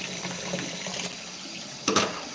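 Hot water runs from a tap while fleas are washed off a cat, a steady rushing flow with a louder splashing burst near the end.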